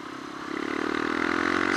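A Sinnis Apache 125cc motorcycle engine runs close by, its steady harmonic drone rising slightly in pitch and loudness as it picks up revs over the short stretch, with no talking.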